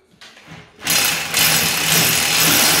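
A power drill bores through solid granite during renovation work on a chateau en suite, starting with a rising whine, then a loud, sustained grinding roar up close.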